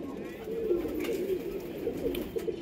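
Blue chequer pigeons coo close by, with soft, rolling low calls that repeat and overlap across the whole stretch.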